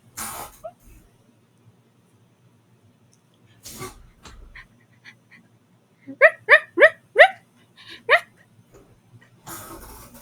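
A person imitates a dog with a quick series of short, sharp bark-like yelps, loud and close, after a few quieter noises.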